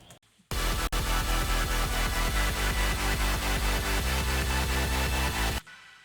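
A future bass drop thumps in steady, evenly spaced kick hits under a dense wall of synth chords, the kick lacking its top layer and sounding dull and buried rather than punchy.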